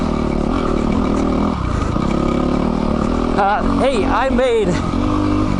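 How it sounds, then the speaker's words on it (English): A Yamaha WR250R dual sport motorcycle on a dirt trail gives a loud, continuous engine drone, then rises into several quick revving surges near the end, heard close by under a voice. "This bike is nice and brappy."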